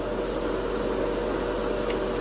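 Steady hiss of a spray gun laying down Createx Wicked Colors chrome paint onto a roughed-up plain plastic spoon, a continuous even spray held close without pause.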